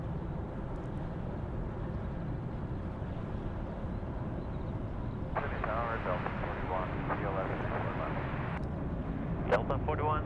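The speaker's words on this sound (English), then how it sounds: "United Airlines now 777 coming in runway 34 left." A United Airlines Boeing 777 approaches Sydney Airport for landing on runway 34 left, a steady, distant jet engine rumble lying under ongoing talk and crackly radio chatter from the tower.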